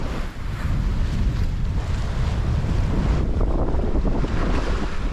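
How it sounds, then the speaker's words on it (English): Strong wind roars steadily across the microphone on a sailboat crossing the North Sea, with waves and surf churning close by in a continuous, loud rush. "Still 15 knots of wind and seems stable"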